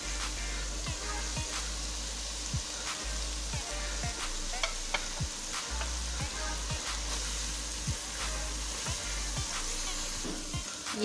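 Ground spices for chana daal fry sizzle in hot oil as they are stirred: mustard powder, turmeric, dry coriander, red chili powder, crushed chili, salt and cumin. A constant close frying hiss runs under occasional spoon clicks, with a low steady hum beneath.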